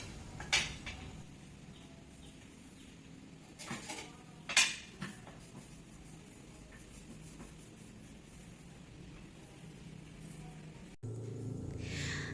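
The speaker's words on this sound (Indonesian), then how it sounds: "Lalu saya juga membersihkan kompor." Cleaning a kitchen stove at home, with scattered clinks and knocks of metal pots and utensils against the stovetop over a quiet background, a few sharper clatters standing out, close and with no talk.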